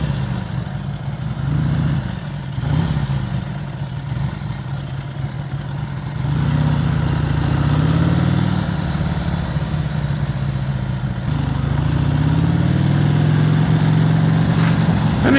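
A Harley-Davidson Ironhead XLCR motorcycle engine runs steadily and loud, with a deep, lumpy low rumble and mechanical clatter, swelling as the throttle opens for a straightaway blast partway through.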